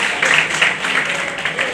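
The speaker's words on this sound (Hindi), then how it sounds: "तालियां बजती रहनी चाहिए भैया, बहुत बड़ा दिन है" Applause at a NEET-2022 coaching-class ceremony, steady crowd clapping throughout with rhythmic swells, heard up close, with a voice faintly mixed in.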